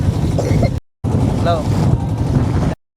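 A boat moves across the water at Patul. A steady low rumble mixes with wind buffeting the microphone, broken by one short silent gap.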